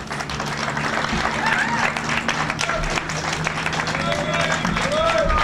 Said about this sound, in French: je voulais qu'on essaye d'applaudir un peu pour Yves Sambou, le président du collectif Sadi, qui va prendre la parole.